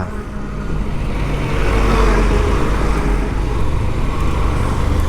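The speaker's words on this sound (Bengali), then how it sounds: "এই দেখেন ট্রাক আসছে একটা" A truck approaches on a road shared with reckless buses and trucks, its steady engine roar and rumbling tyre noise loud and close, swelling slightly as it nears, heard from alongside a touring motorbike.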